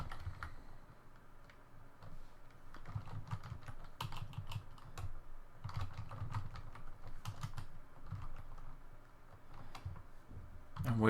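Ruby code typed on a computer keyboard, soft irregular key clicks and taps in quick bursts, faint and close, with a muffled low voice in the background.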